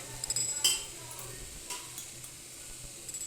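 Soft scraping and light clinks of a spoon stirring raw mango in hot seasoning in a pan, faint and close, with a brief louder clatter near the start.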